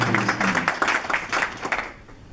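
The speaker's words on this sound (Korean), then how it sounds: "이런 박수 부탁드리겠습니다" Applause from the audience at a Korean business fellowship's chapter president installation ceremony in Atlanta, with the clapping broken into bursts that die away after about two seconds.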